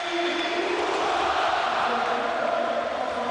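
A stadium crowd welcomes Aubameyang at Borussia Dortmund's home ground during the 2013 German Super Cup final against Bayern Munich. Thousands of voices make a dense, steady roar of cheering and chanting.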